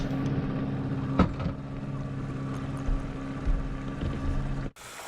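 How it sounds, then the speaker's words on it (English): A sailboat motoring under engine out of a bight near Pukkavik in south Sweden in light stern winds, its steady low engine drone running continuously with faint water and wind noise, cutting off abruptly near the end. "we left the bight under engine"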